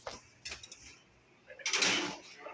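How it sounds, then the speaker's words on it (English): Metal bread pan clattering and scraping as it slides into an oven for homemade bread, with a few short knocks followed by a louder sliding rattle, close and alone. "Alright, now we're going to put it in the oven."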